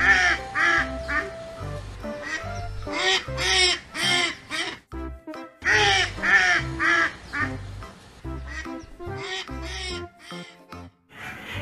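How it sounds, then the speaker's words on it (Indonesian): Loud, repeated duck quacks from the game Jurassic World Evolution 2 in quick rhythmic bursts over a bouncy electronic backing, game-style sound effects with brief pauses between phrases. "Yang ini ada bebek."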